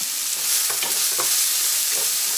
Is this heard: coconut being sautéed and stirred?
yes